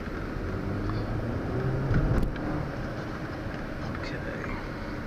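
Steady low road and engine rumble from inside a 2014 Audi A4 Premium with a 2-liter motor and all-wheel drive, driving around a block, holding at an even level with a brief louder swell midway.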